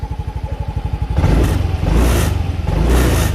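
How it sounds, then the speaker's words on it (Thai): A small 125cc scooter engine, a 2019 Freego, idles with a steady putter, then revs up loudly in several surging throttle bursts, close by, with the license plate rattling. "เดี๋ยวดูตอนที่ผมบิดคันเร่งนะครับ"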